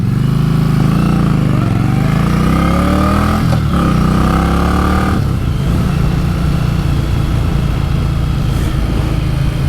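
An Indian Scout Bobber motorcycle engine revs loudly and close, rising in pitch, then dropping briefly and climbing again, with a continuous strong rumble throughout.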